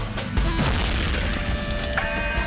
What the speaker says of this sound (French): Quelle explosion!